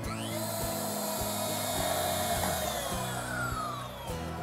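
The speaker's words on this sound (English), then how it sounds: "Now we're gonna cut the plastic off of this side of it." A power tool cuts away the plastic guard tube on a PTO shaft being shortened, a steady loud whirring grind with shifting pitch running continuously, close up and without any talking.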